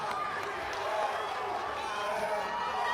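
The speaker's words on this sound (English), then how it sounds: "somebody clap your hands right now" An audience at a collegiate powerlifting nationals meet claps and cheers in a dense, continuous wash of applause and crowd noise, with an announcer's voice over it.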